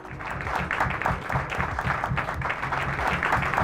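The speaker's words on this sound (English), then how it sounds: "please, with a resounding applause" Steady applause from a podcast audience at a fireside chat, a dense patter of clapping hands that holds at an even, moderate level for a few seconds.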